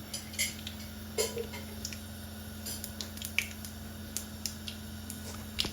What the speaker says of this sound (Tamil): இப்போ கடுகு உளுந்து சேர்க்கிறேன்.